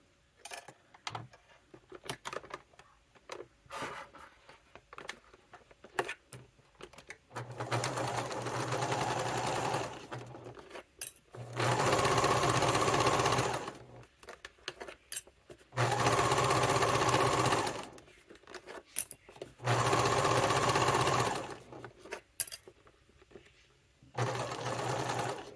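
A sewing machine stitches a seam on a fabric satchel in several bursts of a few seconds each, its fast mechanical whirring separated by short quiet pauses, close and clear with no talk.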